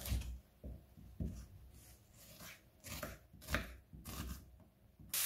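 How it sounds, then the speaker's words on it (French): A kitchen knife slices peeled onions on a cutting board, quiet rhythmic cuts landing roughly every half second, close and isolated with no talking. "Donc je vais émincer les oignons."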